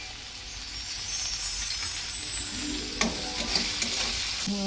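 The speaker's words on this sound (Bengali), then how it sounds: "এটা নাড়াচাড়া করতে হবে।" A fish egg curry with coriander powder sizzles loudly in a frying pan while a spoon stirs and scrapes through it, the close frying hiss continuous under the stirring.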